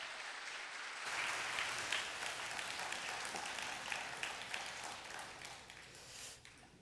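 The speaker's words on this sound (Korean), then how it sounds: "우리 큰 박수로 환영하도록 하겠습니다." Audience in a church applauding to welcome a pastor to the pulpit, a dense, steady wash of clapping that starts abruptly and carries on evenly before tapering off near the end.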